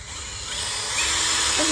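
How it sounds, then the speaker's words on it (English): A power drill whines steadily and rises slightly in pitch as it bores a hole in wood, a continuous close mechanical drone. "get the hole drilled in there"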